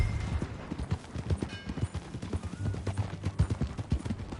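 Horse hooves clip-clop at a steady ride in the Red Dead Redemption 2 video game, loud and close, with rhythmic beats throughout and a low background hum.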